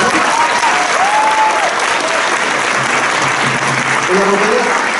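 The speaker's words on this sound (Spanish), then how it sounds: "Un aplauso, por favor." Audience applauding at a rondalla performance, dense sustained clapping throughout at close range, with a voice faintly audible over the clapping.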